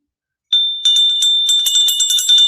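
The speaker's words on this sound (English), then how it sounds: "And it is a cool looking bell. It is cast iron. It is painted yellow." A heavy yellow-painted cast iron bell rings loudly and close, its bright sustained tone struck repeatedly in quick succession with no talking.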